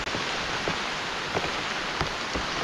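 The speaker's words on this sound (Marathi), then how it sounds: "हा एवढा डोंगर उतरून आणि पाऊस पण आला आहे मस्तपैकी" Steady rain falls outdoors after a hill descent, a dense even hiss with scattered heavier drops, alone without talk.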